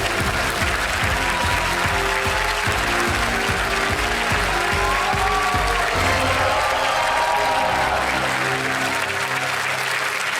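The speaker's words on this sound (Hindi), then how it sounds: "Big hand for Khushboo Tiwari." Sustained applause from the studio audience of the Kaun Banega Crorepati TV quiz show, dense and steady clapping throughout, with faint crowd noise and some low rhythmic thumping underneath.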